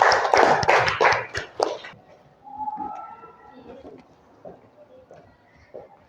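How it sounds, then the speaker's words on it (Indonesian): Students applaud in a classroom: about two seconds of brisk, close hand clapping from a small group, followed by quieter murmuring voices and faint background sounds. "Kita berikan tepuk tangan sama-sama"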